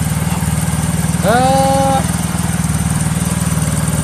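A Yamaha Mio J scooter engine chugs in a steady, close idle, rising briefly in a revving whine toward about 2000 RPM before settling back, with a short spoken exclamation.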